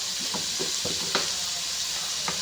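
Mutton frying in oil in an outdoor jungle-style cooking setup, a constant close sizzle punctuated by several stirring scrapes of the spatula, no voices.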